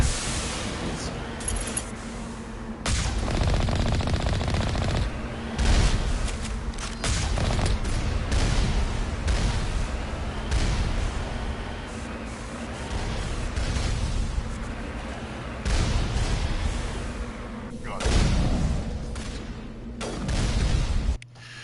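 Heavy turret gunfire in the video game Mass Effect Legendary Edition, a dense barrage of booming shots and blasts that sweeps through loud sustained stretches, with brief pauses and occasional voices underneath.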